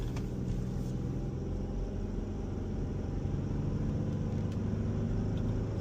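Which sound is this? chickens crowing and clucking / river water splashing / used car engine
used car engine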